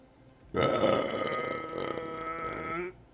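A single long, loud burp close to the microphone, rising sharply and droning for over two seconds before cutting off, with nothing else heard.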